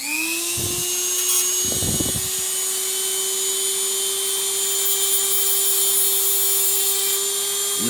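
A small rotary tool with a thin cut-off wheel grinds into tiger's eye stone, giving a steady high whine that holds through the clip, broken twice by brief scraping bursts as the disc bites into the stone.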